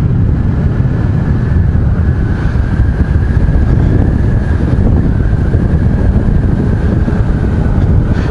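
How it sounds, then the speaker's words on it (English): Loud, steady wind roar buffeting the microphone while riding a motorbike, a dense continuous rush with a faint engine tone underneath and no talking. "all you're hearing is the wind."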